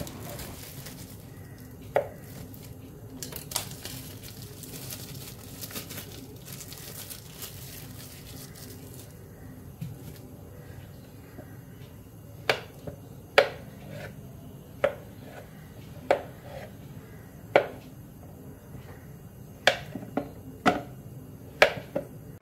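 A block of homemade soap base is cut into pieces, giving a series of sharp, separate cutting knocks at irregular intervals over a quiet room background, close and fairly distinct.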